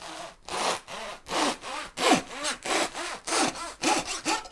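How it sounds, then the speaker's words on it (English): The saw edge of a Wolfcraft bread knife cuts back and forth through wood in a series of about ten rhythmic, rasping strokes, close and fairly loud, with brief pauses between them. "Let me see if I can try and do a neat edge with this saw side."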